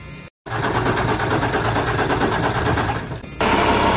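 A Weichai diesel engine fires up after a cylinder head repair, settling into a loud, steady rapid clatter that grows slightly louder near the end, with no talk.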